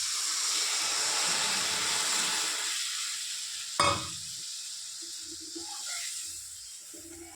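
Sizzling and hissing from masala that has been fried down in oil for a Bengali prawn malai curry, with coconut milk poured in. There is a brief louder burst midway, then steady frying with occasional stirring scrapes. No one talks.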